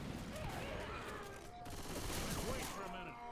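Rapid game gunfire from Left 4 Dead 2 rattles continuously in a dense fusillade, loud and close, with a voice talking over it.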